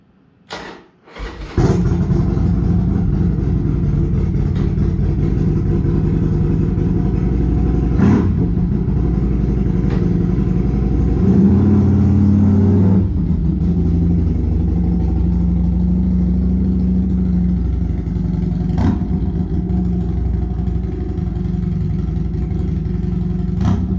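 A 2007 Harley-Davidson Sportster motorcycle starts after a brake change and settles into a loud, steady idle close by, with a brief rev partway through and no talking.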